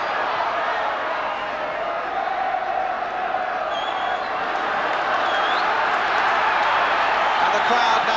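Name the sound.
football crowd cheering and clapping in the stadium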